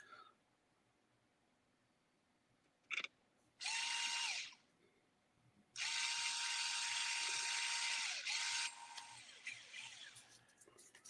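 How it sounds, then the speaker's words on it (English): A power drill whirs in loud bursts lasting about one to three seconds, with short gaps between runs, a brief click before them and faint tool rattles near the end. "Looking down, drill noises."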